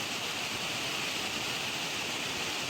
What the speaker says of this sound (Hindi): ये पानी की आवाज़ जो पत्थरों से टकराने पर आती है, ये एक अलग ही वाइब पैदा करती है हमारे अंदर।